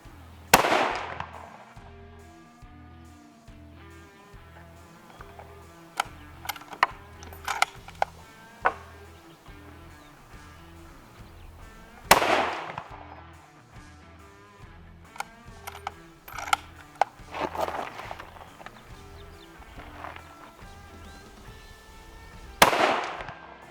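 Rifle shots crack loudly at an outdoor shooting range, spaced several seconds apart, with smaller clicks and metallic handling sounds of the rifle between the shots.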